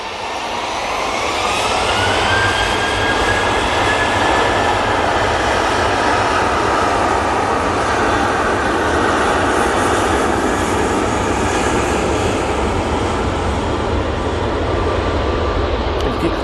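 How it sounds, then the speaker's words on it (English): A steady, loud jet engine roar with a faint rising whine, sustained throughout as an Airbus A320neo airliner passes close by at Manchester Airport. "The Roger Danian A320neo in the One World livery is coming to Manchester again"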